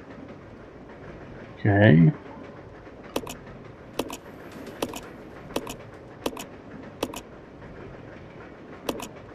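A train running in Resident Evil 0, heard as a steady low rumble with evenly spaced sharp clacks repeating about every 0.8 seconds, and a brief spoken word over it near the start.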